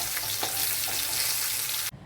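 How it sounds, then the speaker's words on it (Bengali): Rohu fish pieces frying in oil in a kadai, a loud, steady, close hiss of sizzling that runs unbroken and then cuts off abruptly near the end. "এভাবে একে একে মাছগুলোকে সব ভেজে তুলব।"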